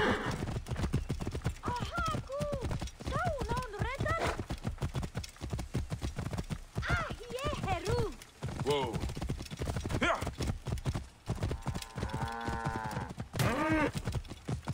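Horses gallop and whinny during a chariot race in Assassin's Creed Origins, with steady hoof clatter under continuous voices and music.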